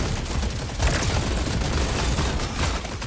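Gunfire in the video game Deep Rock Galactic: Survivor, a rapid, dense barrage of shots with booming impacts that continues loud and unbroken throughout.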